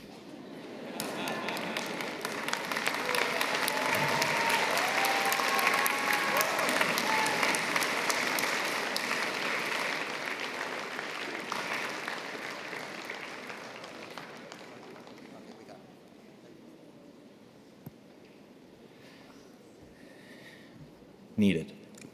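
Thunderous applause fills a graduation ceremony hall for the Faculty of Mathematics, a loud sustained roar of clapping that slowly tapers off over about fifteen seconds, then gives way to quieter room noise and a couple of knocks.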